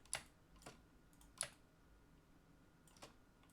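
Typing on a computer keyboard during game development work: four sparse, sharp key clicks spaced irregularly, quiet and close, with no talk.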